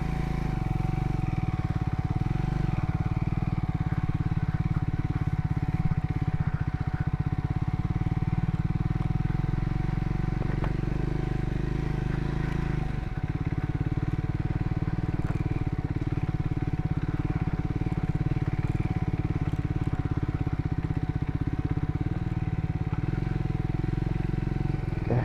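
A Triumph Scrambler 400X motorcycle rides off-road up slippery trails to Kurumbalakotta Mala in Wayanad, its engine a steady, continuous drone close by for the whole stretch with little variation.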